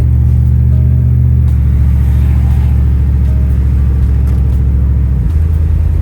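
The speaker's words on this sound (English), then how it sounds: "I hope that wind noise ain't too much for you." Wind roars as a steady, loud, low rumble inside a car cruising along Jefferson in Ecorse, with engine drone beneath and no talking.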